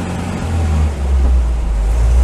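Citroen D Special engine held at full throttle on a dyno, a loud, steady low drone that swells slightly partway through, with no voices.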